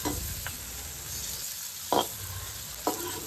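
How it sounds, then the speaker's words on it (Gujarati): Chopped onion and tomatoes are stirred into garlic in a hot pan for a Kathiyawadi-style cluster bean and potato curry, a steady close sizzle broken by three brief scraping stirs. "હવે આપણે આમાં સમારેલી ડુંગળી, ટમેટાં એ બધુંને સારી રીતે હવે મિક્સ કરી લેશું"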